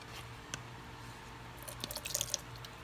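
Water poured into a pan of fish curry, a faint wet dripping and splashing with a few louder drips toward the end, close and quiet under low background noise.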